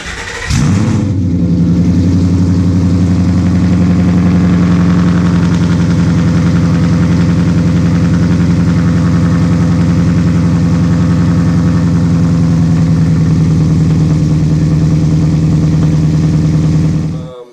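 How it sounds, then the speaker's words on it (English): A Boss 302 engine cranks and catches on a cold start, then settles into a loud, deep, rumbling idle through open side exhaust that runs steadily without a break. "This will be the last cold start that we're going to hear with the pipes and the open side exhaust."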